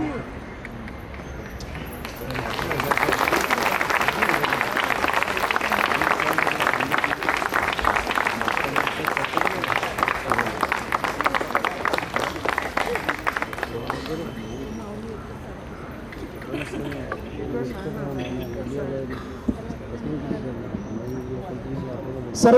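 An audience at a Constitution festival and Amarjyot lighting ceremony claps to welcome honoured guests. Dense, fairly loud applause builds quickly, holds for about ten seconds, then thins out, with speech around it.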